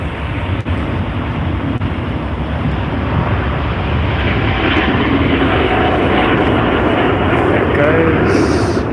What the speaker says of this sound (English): Yan Dreaming is now taxiing onto the runway